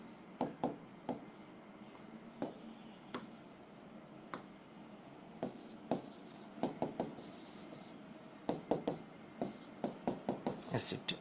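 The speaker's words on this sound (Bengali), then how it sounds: "আমি একটু অন্য কালারে লিখি" Marker strokes squeak and tap on a board during a chemistry lecture, short bursts of scribbling in irregular clusters, close and moderately loud, with a teacher's voice speaking between them.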